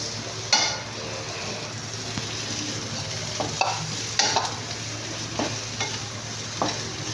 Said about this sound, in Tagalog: Put the cabbage. Mix.